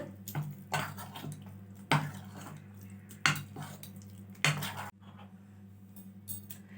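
Rice flour is worked together with warm water in a bowl with rhythmic scraping and clinking strokes, four strong ones in a row followed by lighter, quieter stirring.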